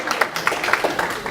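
Audience at an entrepreneurship panel event applauding a panelist, a brief burst of scattered hand claps, moderately close and steady.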